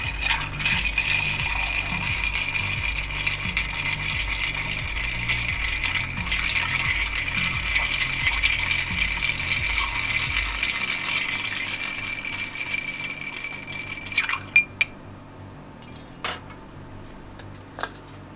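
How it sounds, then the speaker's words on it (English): Ice is worked out of a plastic ice mold with sustained close rattling and ratcheting clatter that stops partway through, followed by a few sharp cracks and knocks as pieces come loose. "Should have pried my ice mold out of here first."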